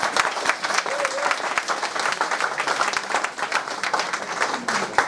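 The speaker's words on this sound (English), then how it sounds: "A round of applause." At a company's first town hall meeting, an audience breaks into dense, even applause that holds for several seconds, with a faint voice or two beneath the clapping.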